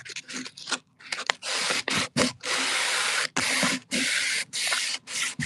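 Hand-sanding a piece of wood, close and fairly loud, in repeated bursts of gritty rasping strokes of varying length separated by short pauses.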